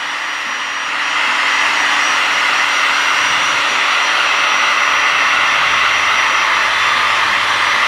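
A heat gun blows steadily on window tint on a BMW E46 M3, a loud, continuous airy whoosh with a faint whine that holds constant throughout.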